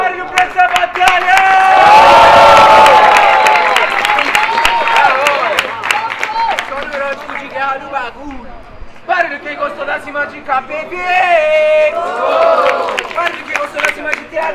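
A crowd at a rap battle in Itaquera cheers, whoops and applauds loudly in a swelling burst, then claps and shouts in a second wave while a host talks over the noise.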